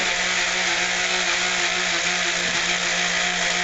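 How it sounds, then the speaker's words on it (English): A buffing wheel polishing 1911 pistol metal parts gives a loud, steady motor whine with a constant grinding hiss, unbroken and close for the whole stretch. "you're buffing metal, you're polishing metal"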